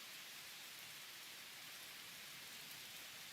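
Steady rain falls in the railway simulation game Derail Valley, an even hiss of drops with no breaks, faint and continuous throughout with nothing else heard.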